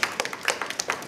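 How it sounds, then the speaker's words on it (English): Scattered hand claps from a small group of people at an anniversary celebration, a loose sequence of sharp, close claps over about a second. "Give yourselves a round of applause."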